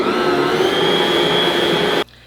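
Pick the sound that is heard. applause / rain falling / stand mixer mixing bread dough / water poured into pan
stand mixer mixing bread dough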